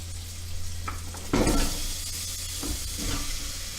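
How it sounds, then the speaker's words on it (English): Vegetables dropped onto bacon in a hot pan for hobo stew, a steady close sizzle with a sudden louder hiss as food hits the fat, plus faint stirring clinks and no talking. "Hear that sizzle?"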